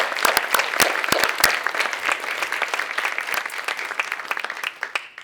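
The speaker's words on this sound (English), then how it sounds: "how about another round of applause for all of our ladies?" A crowd at a community service awards dinner claps steadily, with sharp individual claps standing out near the start and the applause gradually thinning toward the end.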